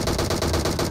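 Rapid gunfire bursts from the PUBG Mobile video game, loud and dense with no pause in the short stretch.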